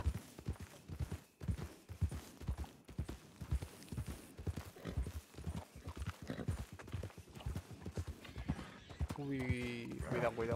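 A horse trots in a western roleplay video game, its hooves beating a steady, close clip-clop while someone talks over it almost throughout, and a whinny is heard near the end.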